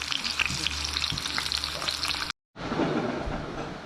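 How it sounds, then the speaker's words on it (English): Bacon sizzles and crackles steadily in a frying pan. There is a brief gap, then the frying resumes at the same busy, close level. "This is the bacon I'm frying up."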